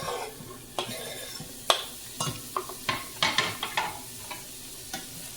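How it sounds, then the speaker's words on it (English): Onions and greens stirred in a soup pot for homemade vegan lentil soup, with a soft sizzle underneath and a string of close scraping, clinking spoon strokes against the pot. "Stir that around a little bit."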